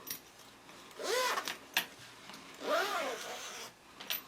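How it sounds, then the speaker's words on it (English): A zipper on a fabric pouch is pulled open in two quick rasping strokes about a second and a half apart, soft and close with faint rustling between them. "we're going to open the zipper all the way."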